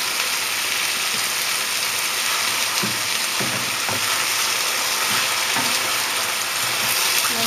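King prawns and chili sizzle in a wok for a homemade Chinese stir fry, a steady loud frying hiss throughout with scattered clicks and scrapes of stirring, no talking.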